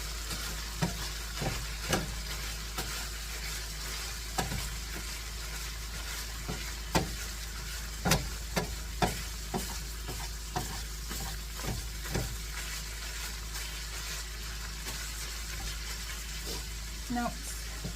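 Meat sizzles and fries in a pan while being cooked for lasagna, a steady hiss broken by scattered stirring clicks and scrapes, close and moderately loud with no talking.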